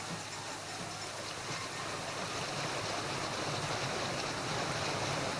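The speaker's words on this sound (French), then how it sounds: "L'eau parvient enfin au niveau de la pierre." Water flows up to a stone as a steady, close, broadband rush that fills the whole stretch without pause and with no voices.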